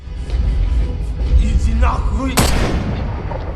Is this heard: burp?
no